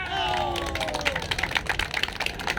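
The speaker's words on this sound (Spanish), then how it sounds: "Un aplauso por ese hermano" Audience applause at a political address: dense, steady clapping from a crowd, fairly close, with a voice sliding briefly in the first second.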